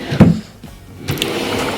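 A drawer in a home office sliding open and shut: a woody bump, a short rolling slide, then another knock and rattle, close and fairly loud, with no talk.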